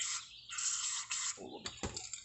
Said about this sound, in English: So I'm spraying in there and I see it coming out here